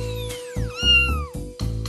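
A short high-pitched cartoon cat meow with a falling, wavering tone, standing alone between sharp mechanical pulses.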